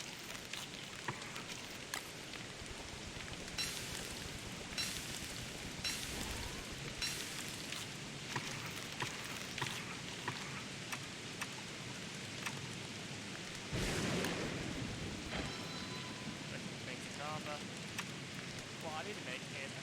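Steady rain patters and hisses throughout a Don't Starve video game scene, with a loud thunder crash at about two-thirds of the way through, all at a constant, fairly quiet level.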